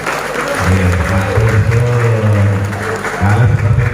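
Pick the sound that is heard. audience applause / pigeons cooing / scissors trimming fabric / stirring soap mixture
audience applause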